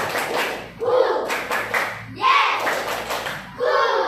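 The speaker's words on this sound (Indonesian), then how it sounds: "tepuk tangan untuk kita semua" A class claps hands in rhythmic counted bursts during a school lesson, with voices chanting and talking in between, loud and close.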